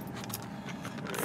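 Car interior while driving through busy Los Angeles traffic, a steady low road rumble with faint rattles and jingles throughout, fairly quiet and with no talking.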